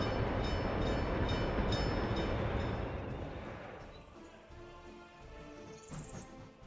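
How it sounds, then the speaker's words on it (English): A train rolls along in the Workers and Resources video game, first a loud dense clatter of rumbling wheels that fades over several seconds, leaving lighter rattles and a brief high squeal near the end. "the train brings it the extra 40 meters to here"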